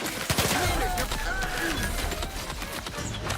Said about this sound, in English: Turrets hit hard.